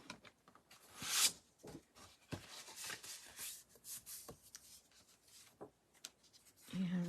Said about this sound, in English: I do not want to cut it. I just want to score it.